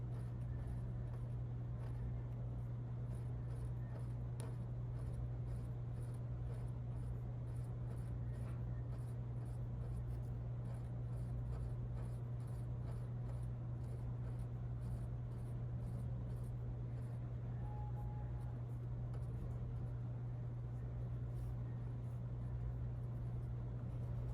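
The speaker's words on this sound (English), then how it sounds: "I'm just going to focus on drawing each one of the seeds." Pencil sketching pomegranate seeds one by one on paper, a faint, steady scratching over a constant low electrical hum, with no talking.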